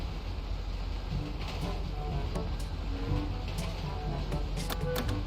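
A train in GTA V rumbles along steadily at high speed with rhythmic clicking and occasional sharp metallic clacks over a constant low drone.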